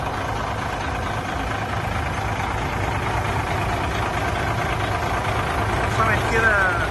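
A Chinese Dongfeng cargo truck idles at a congested China–Vietnam border crossing in Hekou, Yunnan, a steady low diesel rumble close by with a slight swell near the end, while someone talks over it.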